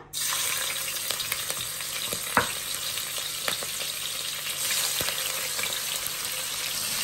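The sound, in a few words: shrimp with shells frying in a pan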